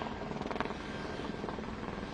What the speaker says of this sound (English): The helicopter arriving to the premise.